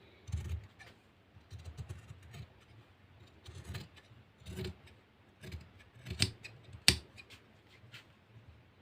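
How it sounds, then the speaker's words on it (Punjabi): Scissors cut through kameez fabric, beginning with the back piece, in a series of close, crisp snips with irregular pauses between them and one sharp louder clip near the end. "ਹੁਣ ਆਪਾਂ ਇਹਦੀ ਕਟਿੰਗ ਕਰਨੀ ਹੈਗੀ ਸਭ ਤੋਂ ਪਹਿਲਾਂ ਆਪਾਂ ਬੈਕ ਤੋਂ ਸਟਾਰਟ ਕਰਨੀ ਹੈਗੀ"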